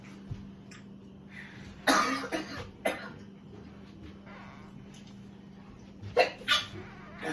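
A few sharp, explosive bursts like sneezes break out close by, spaced apart over a low steady hum, with no talking.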